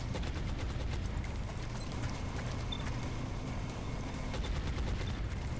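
Gunfire in the video game XCOM: Long War, a dense, steady burst of shots and crackle holding at an even level throughout with no pauses.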